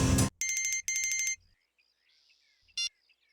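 Phone ringing for an incoming call from a wife, two quick electronic ringtone bursts, each a rapid warbling pulse train, followed by a short chime and near silence.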